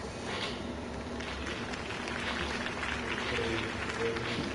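A crowd applauds and claps continuously at a moderate distance, a steady wash of many hands with a faint murmur beneath, in the video game Batman: The Telltale Series.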